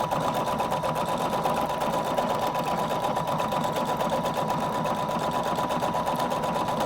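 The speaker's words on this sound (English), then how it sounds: "I'm just going to press start stop to have it stitch out my pattern" A Husqvarna Viking Designer Brilliance 80 sewing machine stitches out a programmed decorative pattern, its motor running in a steady, even, rapid whir close by for the whole stretch, with no talking.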